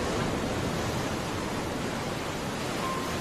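Ocean surf rolls in at Jembatan Panjang beach in southern Malang, a dense, continuous roar of crashing water with no break, loud and close, with no voices.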